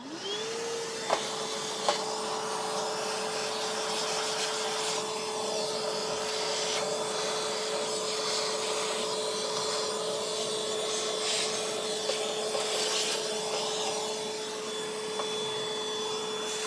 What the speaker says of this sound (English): I can apply my HEPA filter so I can start vacuuming again.